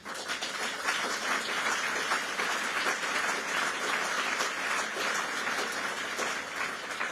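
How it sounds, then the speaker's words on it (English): An audience applauds during a speech by Vice President Harris, sustained even clapping from a large crowd, steady and moderately loud throughout with no voices. "And you applaud because we all know that is a substantial sum"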